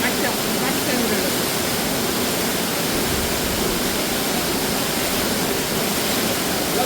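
Doddkalere waterfall near Avarsa, Ankola roars with a loud, unbroken broadband rush of falling water, close and constant throughout with no pauses.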